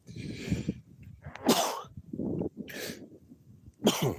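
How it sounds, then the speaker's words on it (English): Several sharp, explosive sneezes burst out close to the microphone, spaced unevenly across a few seconds with quieter breathy sounds between them. "Pardon my sneeze."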